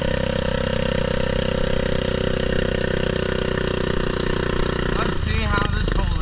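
Someone's loud four-wheeler idles close by with a harsh, buzzing exhaust, steady and continuous. Its tone shifts near the end as the rumble changes, and someone seems to be talking over it.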